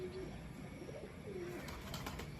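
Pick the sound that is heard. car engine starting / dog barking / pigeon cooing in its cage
pigeon cooing in its cage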